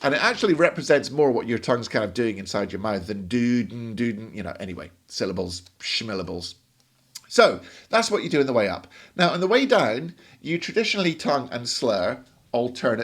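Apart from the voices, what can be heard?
None of the usual background noises is heard.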